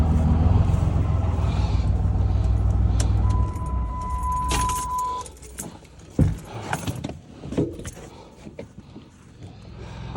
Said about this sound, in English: This is why you have a big badass truck, because you gotta get into some really muddy, snowy situations.